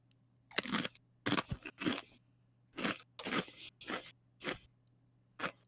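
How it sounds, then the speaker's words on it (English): Close, crisp crunching of food being chewed, a run of about nine brittle bursts in uneven rhythm over a faint steady hum, with no talking. "He's crunching in my ear. Listen to that."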